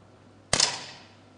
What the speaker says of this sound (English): Still waiting for Hujun of China, shooting from the 3rd position